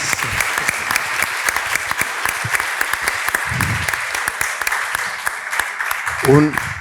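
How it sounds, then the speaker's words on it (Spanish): Audience applause fills a conference hall after a presentation on atherosclerotic cardiovascular disease: steady, dense clapping from many hands throughout, with a brief voice near the end. "Desde luego, un merecido aplauso para Charo"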